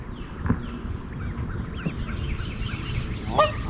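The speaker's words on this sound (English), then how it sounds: "Oh, look at the baby geese." Baby geese peep in soft, high chirps over a steady outdoor rush, and one brief honk stands out near the end.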